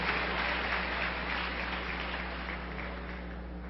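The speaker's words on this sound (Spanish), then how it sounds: "Yo creo que las que aplaudieron fueron las esposas." Pastors' wives in a church audience clap during a sermon, a steady wash of applause that fades slightly toward the end, with no voices over it.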